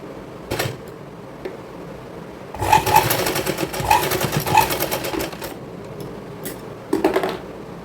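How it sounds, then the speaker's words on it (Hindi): Sewing machine stitching a lehenga hem made from an old saree, a few short mechanical whirs and then a longer burst of rapid stitching, close and fairly loud, ending with brief clicks. "इसको अब हम ऐसे पैक करके सिलाई लगा देंगे"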